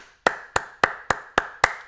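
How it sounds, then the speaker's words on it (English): Six sharp, evenly spaced hand claps from a single person, close and clear, with quiet pauses between each clap. "I clap to you"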